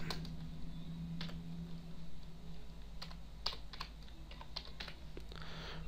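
Clicks of computer keys being pressed while working in C# Windows Forms, a scattered run of light, soft taps over a steady low hum, faint and close.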